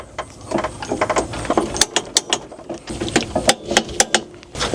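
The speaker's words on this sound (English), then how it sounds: "Tighten these down, 50 foot-pounds." A ratchet wrench tightens the suspension bolts on an ATV fitted with Elka Stage 3 shocks. The sound is a loud, close series of quick metallic clicking bursts with short pauses between strokes, and no speech.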